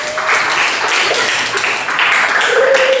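Students in a classroom applaud together, a dense, steady wash of loud hand clapping that carries on without a break, with a faint voice underneath.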